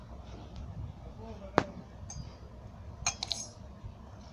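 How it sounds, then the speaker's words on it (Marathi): Nutmeg gets crushed into a steel mixer jar for cardamom powder, heard as a sharp metallic clink near the middle and then a quick cluster of clinks and taps, all quiet against a soft room background. "हे जायफळ थोडं चेचून घ्यायचं हे मिक्सरच्या भांड्यामध्ये"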